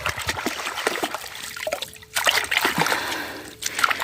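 Seedlings being rinsed by hand in cold water: irregular splashing, trickling and sloshing close by, with a couple of brief pauses between bursts of water movement.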